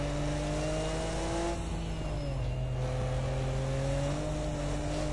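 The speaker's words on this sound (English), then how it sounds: "You can hear the car really struggling a little bit. As soon as it's out from the boost range, that's it." A Nissan Skyline R34 GT-R SMS-R turbocharged engine drones at steady, laboring revs below its boost range on the Nürburgring Nordschleife, its low hum holding flat and strained without climbing, close and continuous throughout.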